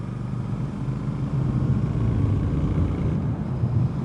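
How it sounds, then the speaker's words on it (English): Triumph Speed Twin motorcycle engine pulling at low revs while riding on Colorado roads: a steady, close, deep rumbling drone with wind noise over it, no voices. "with the Speed Twin I don't have to keep the revs up super high"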